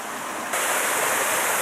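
Waterfall in the Schleifmühlklamm gorge near Unterammergau, a steady broadband roar of falling water that grows louder and fuller after a brief quieter start, close and continuous with no voices.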